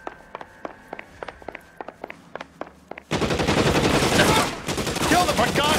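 Gunfire in a video game shootout in LA Noire: a series of sharp, evenly spaced single shots rings out, then a dense, loud burst of continuous automatic fire and chaotic noise takes over and keeps going to the end.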